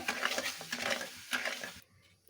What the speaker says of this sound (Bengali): নেড়ে নেড়ে একটা সেরা তৈরি করে নেবো